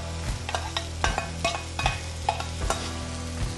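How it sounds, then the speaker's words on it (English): Onion and garlic frying in oil in a pan, a continuous close sizzle broken by rhythmic scraping stirs about every half second. "Onion and garlic goes."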